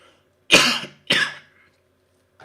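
Two sharp, harsh coughs in quick succession from one nearby person, the start of a random coughing fit, followed by a faint third sound after a pause.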